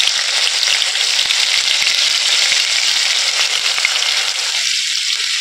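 Grated garlic sizzles in hot oil with black cumin seeds, a steady, dense frying hiss that stays loud and close throughout with no talking.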